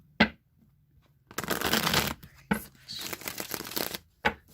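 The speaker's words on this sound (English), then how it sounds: "So I'm going to shuffle the Rider-Waite deck" A Rider-Waite tarot deck being shuffled by hand, close up: a single soft tap, then two bursts of rapid riffling cards separated by brief pauses, ending with a couple of sharp taps.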